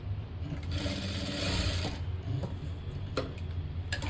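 A sewing machine runs a burst of stitches on a blouse, a fast whirring mechanical chatter that stops, followed by a couple of clicks, close and alone.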